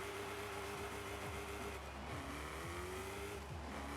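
Centrifugal ProCharger-supercharged car engine in Forza Horizon 5, droning steadily at high revs with rising, shifting tones as boost builds, loud and continuous with no talk.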